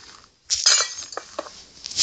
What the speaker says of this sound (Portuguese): vamos colocar aqui o vidro